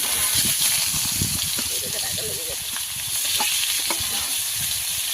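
Chopped onion fries in hot oil with bay leaf and cumin for a country chicken curry, a close, steady sizzle with stirring scrapes and splutters, under a voice talking throughout.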